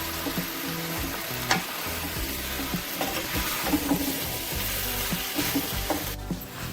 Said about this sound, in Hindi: अब हम इसमें चिकन ऐड करेंगे, इसको भी मिक्स करेंगे अच्छी तरह।